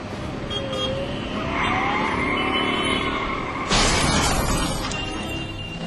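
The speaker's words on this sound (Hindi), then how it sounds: "पहले एक तेज रफ्तार गाड़ी अमृतांशु के स्कूटर को टक्कर मारकर रफू चक्कर हो जाती है" A speeding car on a street whines and its tires squeal, then it strikes a scooter, making a sudden loud broadband crash partway through, after which traffic noise carries on.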